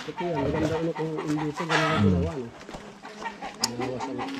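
Chickens cluck and murmur close by in short repeated bursts, with a voice talking over them.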